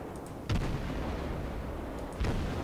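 Warship guns fire in World of Warships, two heavy booming salvos a couple of seconds apart, each a deep, rumbling blast over a constant low battle drone.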